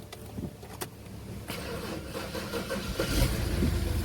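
A BMW E60 5 Series engine with 114,258 miles cranks and catches, rising into a running idle after a few clicks and clunks, close and fairly loud.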